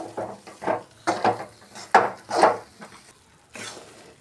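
A spoon scrapes and knocks against a pan in a steady rhythm of about eight strokes while flour roasts in ghee, close and moderately loud, with no talking.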